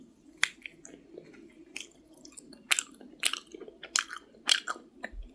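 Chewy Korean rice cake (tteok, flower-shaped rice cake slices for tteokguk) being chewed close up, with soft squishy mouth sounds and a few sharper bites repeating irregularly, no talking.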